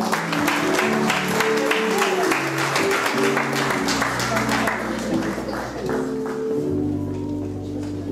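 Church congregation clapping steadily and rhythmically together in praise, with singing or voices and a low musical hum underneath, continuing throughout.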